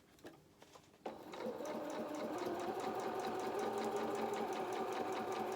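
Sewing machine stitching the back of a doll's elephant head, starting after a few light clicks and then running in a fast, even mechanical whir with rapid needle ticks, close and steady, with no talk.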